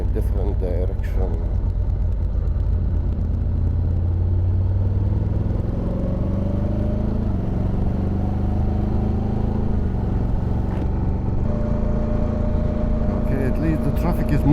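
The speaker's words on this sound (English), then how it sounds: "at least the traffic is moving at speed" Steady engine drone and passing road traffic heard while riding a motorcycle such as a Honda X-ADV or Triumph Tiger, with a continuous rumble and gliding engine tones rising and falling as the bike moves along at speed.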